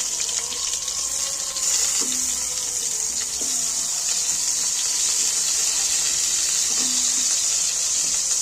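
Pointed gourds (potol) fry in hot mustard oil at high heat, giving a loud, even sizzling rush that holds steady throughout with a few faint knocks, with no talking.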